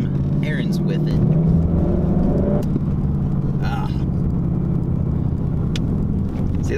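A 2018 Ford Mustang GT driving on errands, its engine a steady low rumble heard from inside the car, with brief louder bursts of road or passing noise and speech over it.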